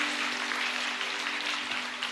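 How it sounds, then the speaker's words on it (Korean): A church congregation claps in praise during a worship service, a dense, continuous wash of many hands applauding at moderate distance with a faint sustained organ-like tone underneath. "주님께 영광의 박수를 돌리십시오."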